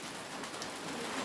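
Rain falls steadily at a transmigration settlement, a soft continuous hiss of drops on surfaces, faint and even with no voices.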